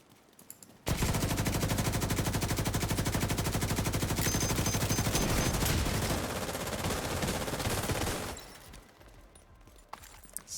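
An RPK machine gun fires in a video game, one long, rapid, unbroken burst of loud, close gunfire lasting several seconds before cutting off to quieter background sound.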